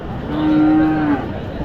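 A large bull moos once in a long, steady bellow at a busy cattle market, with crowd murmur beneath it.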